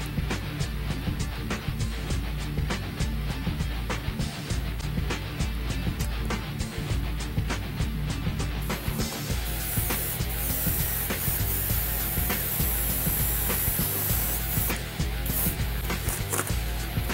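Continuous hissing spray from an airbrush laying black paint over a masked helmet, running steadily with brief interruptions and faint clicks, close to the listener.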